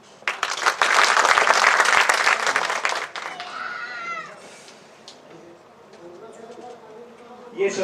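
An audience at a Jharkhand Mahotsav cultural event in Mumbai bursts into loud, dense clapping for about three seconds. The applause then fades into quieter background sounds and voices.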